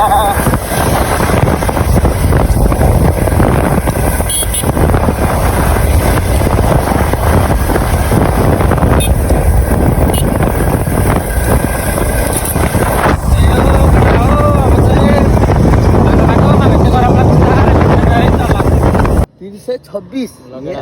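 A Bajaj NS200 motorcycle rides along a mountain road, its engine drone buried under loud, roaring wind buffeting the microphone throughout, ending abruptly near the close.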